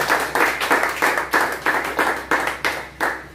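Church congregation clapping together in acclaim, a loud, steady rhythmic beat of many hands, about three claps per second, with no voices over it.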